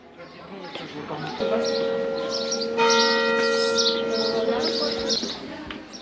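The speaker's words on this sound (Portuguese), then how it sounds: "A Cristina, embalada pelos sinos, nem precisava descansar" Church bells ring out clearly, several tones overlapping and sustaining, with faint birds chirping in the background.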